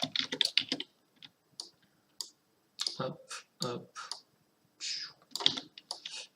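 Computer keys clatter in quick bursts of clicks separated by short pauses, close and crisp, with a brief spoken word or two in between.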